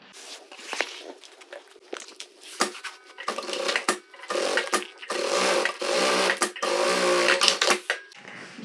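A sewing machine stitches the seams of a fabric toiletry bag in repeated close bursts of rapid mechanical whirring, stopping and starting between runs.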